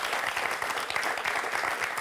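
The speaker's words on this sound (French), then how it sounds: "Ça s'applaudit, ça." Studio audience on the French quiz show Questions pour un champion bursts into steady, dense applause after a correct answer, a continuous wash of many hands clapping at close range for about two seconds.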